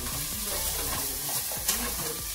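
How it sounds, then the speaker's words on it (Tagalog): Food sautéing in a pan on a home stove, giving a steady, dense sizzle throughout with soft stirring scrapes beneath it, close and continuous. "Oh, ito sang gigisa."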